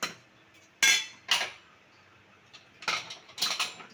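A metal spoon stirs mutton curry with spices in a cooking pot, giving a few loud, separate clanks and scrapes against the pot with quiet gaps in between.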